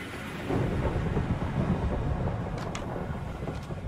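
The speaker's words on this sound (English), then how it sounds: "There was a thunderstorm for a second." A video game thunderstorm rolls through as a steady, loud rumble of thunder with rain-like hiss, filling the whole stretch with no talking.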